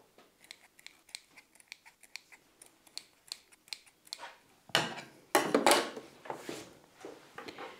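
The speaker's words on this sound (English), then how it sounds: "So let's trim off those thread ends." Scissors snip thread ends on a handmade rope bowl, a quiet series of sharp little cuts in steady succession, followed by a few louder rustling clips up close.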